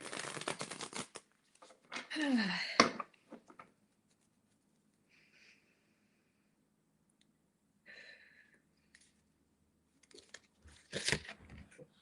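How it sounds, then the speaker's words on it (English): A tarot deck is shuffled in short crisp riffling bursts, close and fairly quiet, separated by stretches of near silence. "let's shuffle the deck,"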